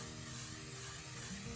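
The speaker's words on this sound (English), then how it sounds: "When you're starting by spraying, I'm going in a circular motion right now" A spray gun applies FRP coating in a steady circular motion, giving a continuous loud hiss with an even airy texture from start to end and no voices.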